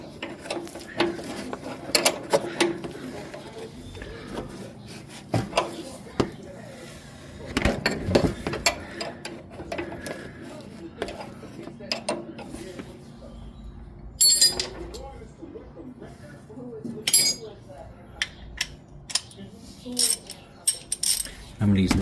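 Ratchet cranking down a front shock piston bolt on a 1965 Chevelle during a disc brake conversion, giving bursts of quick metallic clicking with clanks and tool handling in between, close up.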